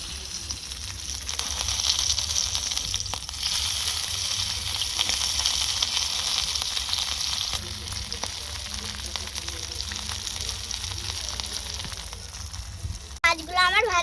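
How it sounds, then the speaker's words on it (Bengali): Bhola fish sizzling as they fry in hot mustard oil in a small home kitchen, a loud steady crackle running throughout with brief louder bursts and a short clatter near the end. "আমি মাছ ভাজার জন্য সরষের তেল দিয়ে দেব"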